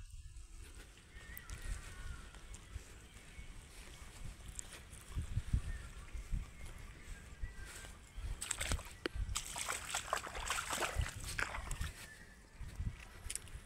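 Irrigation water runs and sloshes through a cumin field as a farmer diverts it, making a continuous outdoor wash with louder splashing bursts in the second half.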